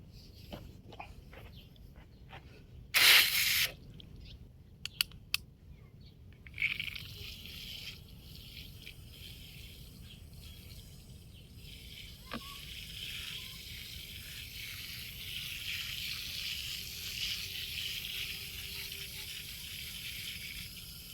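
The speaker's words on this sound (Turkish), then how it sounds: "Şimdi buna bir de can suyu verelim." A newly planted tomato plant is watered outdoors: a few sharp knocks and handling noises come first, then a soft, steady pouring hiss of water on soil grows through the second half.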